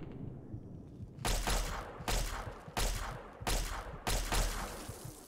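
Gunfire in the video game Fallout 3 comes as five loud, evenly spaced shots or short bursts, each followed by a brief echoing tail, over a quiet background.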